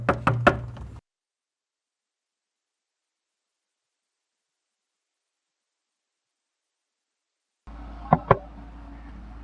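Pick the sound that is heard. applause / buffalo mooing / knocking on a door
knocking on a door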